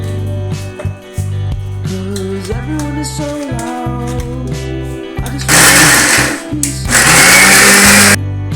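A kitchen mixer grinder blending tomatoes for tomato soup: a motor whine that rises and falls in pitch through short pulses, then two loud sustained grinding bursts near the end.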